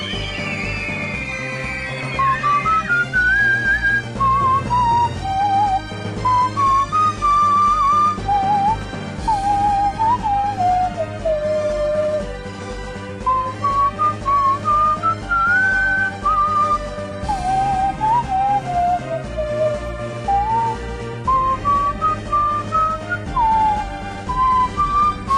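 A person whistles a wavering melodic tune over steady background music, the line sliding up and down in long phrases for about twenty-five seconds with a short break in the middle.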